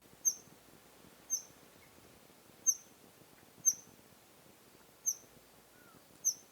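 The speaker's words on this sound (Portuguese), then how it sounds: "ouçam a vocalização da Maria Preta de bico azulado." A Blue-billed Black Tyrant calls six times at roughly one-second intervals, each call a short high, sharp note over a quiet background, fairly distant.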